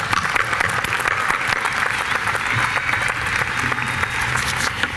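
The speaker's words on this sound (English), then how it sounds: "Let's give you all a huge round of applause." A graduating anthropology class at a UCLA commencement ceremony receives a large audience's sustained applause, dense steady clapping filling the hall at even loudness throughout with no speech over it.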